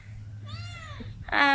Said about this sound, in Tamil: பூனை வந்து கத்துது